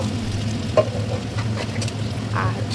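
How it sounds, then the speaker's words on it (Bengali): Mutton being stirred and fried in a clay pot, giving a steady low sizzle with occasional scraping stirs and small clatters throughout. "মাটনটা ঢেলে দেওয়ার পর আস্তে আস্তে একটু নাড়াচাড়া করবো"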